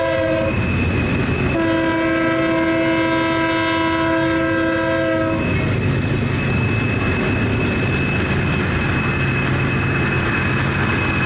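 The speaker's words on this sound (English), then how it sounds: "an uphill BNSF manifest train led by BNSF 4604 during the sunset" A loud BNSF freight train labors uphill close by through a tunnel on Tehachapi Pass, its horn sounding a sustained multi-tone blast for several seconds before giving way to a heavy, steady engine roar.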